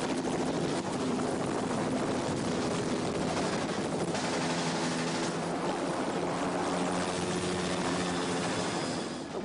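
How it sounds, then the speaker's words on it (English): A helicopter flies through a 1986 Biggles film action scene, its rotor drone loud and unbroken throughout, with possible gunfire crackle mixed in. "the chopper's back in time, with Biggles coming to the rescue of his friends"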